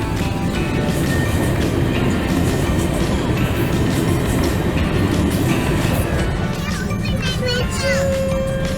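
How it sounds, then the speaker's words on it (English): A train rolls past a railroad crossing with a loud, continuous rumble and rattle filling the scene, a high tone near the end, and a voice and an adult talking faintly over it. "Here goes the train."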